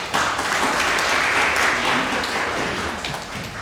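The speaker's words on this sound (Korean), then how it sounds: "수고하신 분들께 박수 한번 드립니다." A church congregation at a Sunday service in Vienna applauds in thanks, a steady, full round of clapping filling the room for several seconds with no talking.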